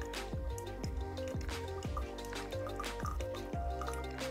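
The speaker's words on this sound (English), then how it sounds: "We are pouring 340 grams of coffee into here, just stopping when we're coming right above the brewer." Water poured into a Bee House ceramic coffee dripper, a steady close trickle and splash with repeated soft gurgling drips in an even rhythm, fairly quiet with no talking.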